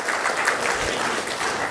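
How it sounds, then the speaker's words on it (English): A dense, steady wash of audience applause fills a summit hall, sustained and fairly loud throughout with no distinct voices on top. "Let's give a big round of applause to Shri Jayesh Ranjan ji"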